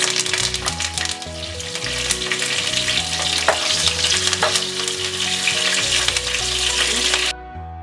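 Curry leaves drop into hot oil with spices for a South Indian crab curry, crackling into a loud, busy sizzle with sharp pops and stirring, close up and without voices.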